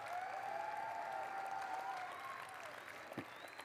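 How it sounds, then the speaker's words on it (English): Applause from the audience at the opening ceremonies of a 2019 FIRST robotics district event in Dalton, clapping steadily and moderately loud for the full stretch with a tonal hum or whistle running underneath, then fading slightly near the end. "let's give Boeing Company a big round of applause"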